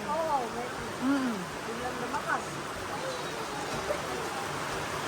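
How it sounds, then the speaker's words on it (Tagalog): Steady hiss of heavy rain pouring down, with people talking and a voice faintly under the downpour. "biglang lumakas ang ulan"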